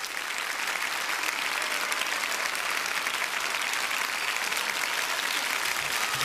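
A concert audience applauds a singer at an event of Belarusian patriotic songs, producing dense and steady clapping that stays loud for about six seconds with no voices on top.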